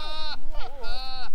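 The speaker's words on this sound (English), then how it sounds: "The goats and all their crazy sounds." Goats bleat loudly and close by, two long wavering cries with a short quivering call between them, filling the moment with harsh nasal tones.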